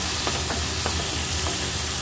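Spices sizzling and frying in a pan as tomato ketchup goes in for chili boal fish, a steady close hiss with a few soft stirring clicks.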